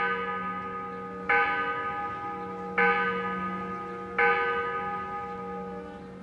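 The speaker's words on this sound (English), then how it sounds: "they can indeed ring the bell, which carries its sound to every corner of the city" A large town tower bell in Hernand, a video game town, tolls three slow, evenly spaced strikes, each leaving a long, resonant hum that carries into the next.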